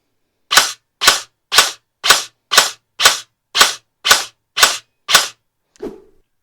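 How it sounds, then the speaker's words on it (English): Ten evenly spaced, sharp semi-auto shots from a budget brushless-motor foam blaster, each a crisp snapping burst, followed by a softer trailing click, close and loud with no talking. "So I'm going to do 10 shots in semi and see where that goes."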